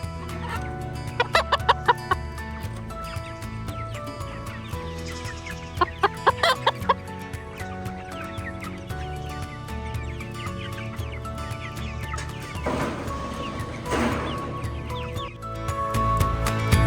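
Chickens cluck softly and steadily in an outdoor enclosure, with a few louder squawking bursts standing out near and in the middle distance.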